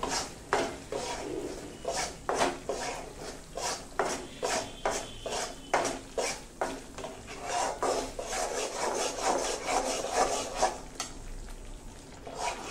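Wheat flour roasting dry in a pan for kada prasad, stirred with a steady rhythm of close, rasping scrapes roughly every half second, with no voices.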